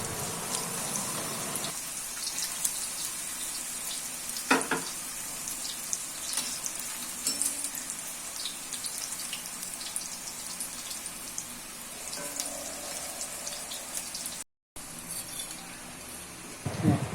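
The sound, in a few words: raw banana slices frying in hot oil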